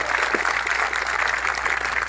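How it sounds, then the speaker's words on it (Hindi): An audience at a public gathering claps loudly and steadily to welcome a legislator, a dense continuous applause with no pauses. "उसका जोरदार तालियों से स्वागत करो"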